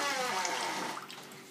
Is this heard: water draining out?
yes